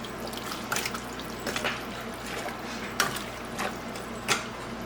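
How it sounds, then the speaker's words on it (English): Broth poured over a pot of beef stew, a soft continuous liquid trickle with scattered splashy drips and a few sharper plops, close by and fairly quiet, with no voices. "I'm gonna get this broth poured over this pot of soup here."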